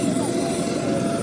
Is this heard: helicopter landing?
yes